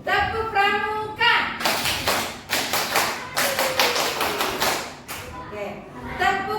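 Children in an Indonesian classroom perform a rhythmic scout clap, a quick patterned run of sharp hand claps in bursts, nearby and loud, with a teacher's voice and children's talk before and after.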